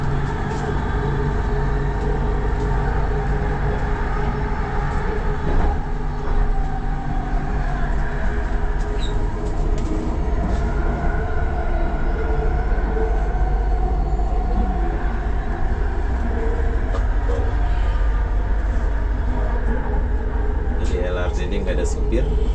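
Continuous low rumble and hum of a driverless LRT train in Kuala Lumpur running on rails, steady and close, with mechanical whirring and occasional clicks, no talking.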